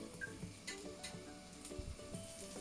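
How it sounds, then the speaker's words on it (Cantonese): Plant-based burger patty frying in a pan, giving a faint, soft sizzle with a few light clicks and taps of handling, and no talk. "跟住咧我哋就可以煎漢堡扒啦"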